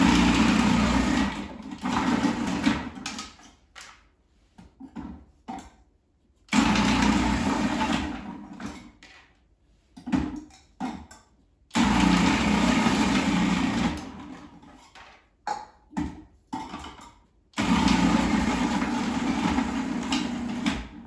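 Food processor shredding carrots runs in loud whirring bursts of a few seconds each, separated by pauses and short pulses.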